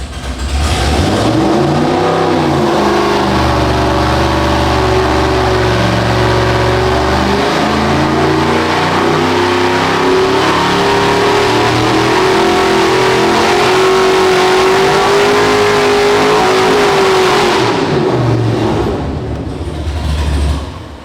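A big-engine 1968 Chevrolet Camaro roars through a full-throttle dyno pull, its loud, steady revving climbing in pitch for nearly twenty seconds before dropping off abruptly, with no voices over it.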